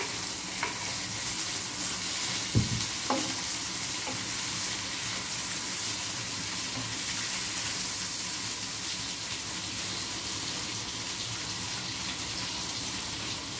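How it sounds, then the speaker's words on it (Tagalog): Chopped tomatoes soften in a sizzling pan of Filipino sarciado with fried galunggong fish and shrimp, giving a steady, close, full frying hiss with a few soft utensil knocks and stirring sounds. "Guys, ilagay din natin yung kamatis. Pagsasabayin ko na silang palambutin, guys."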